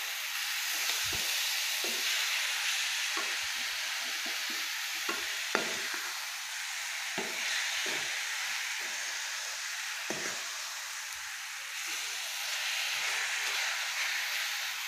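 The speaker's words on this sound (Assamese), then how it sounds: "এতিয়া মই নাৰিকল চেনিৰে ভাজি আছোঁ" Grated coconut with sugar fries in a pan, giving a quiet steady hiss broken by repeated short scrapes and knocks of stirring at an uneven pace.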